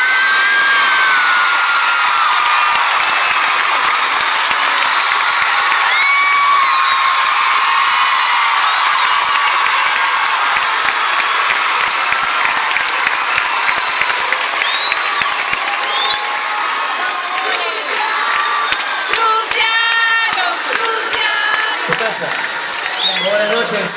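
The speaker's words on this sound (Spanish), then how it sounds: "Quisiera que le den un fuerte aplauso a mi hermano" A concert audience applauds and cheers for a singer, a loud sustained roar of clapping and shouting with whistles cutting through, continuing for the whole stretch.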